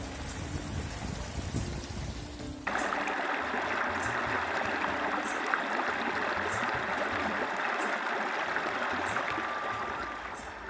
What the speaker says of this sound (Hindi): कलकल करके बहता ये पानी